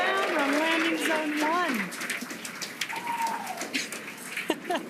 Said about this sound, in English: the crowd here is excited to see Falcon 9 touch down on landing zone